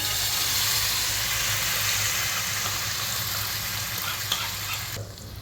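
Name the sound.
masala puree sizzling as it is added to the pan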